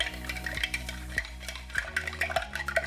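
Ice cubes are stirred in an old fashioned cocktail, giving rapid clinking and rattling against the glass in an irregular rhythm, close and fairly quiet.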